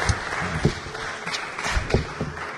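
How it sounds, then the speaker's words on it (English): An audience claps at a book launch, a moderate spread of hand claps with a few sharper individual slaps standing out, continuing throughout without speech. "give another round of applause to the women who have done all"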